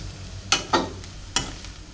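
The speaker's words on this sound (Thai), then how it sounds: "หอมแดงนี่จะคั่วให้มันไหมจักหน่อย คั่วมันสุกจักหน่อย" Shallots stir-fried in a hot pan while making pla ra bong, a fermented fish chili paste: three short, close scraping sizzles stand out over a low, quiet background.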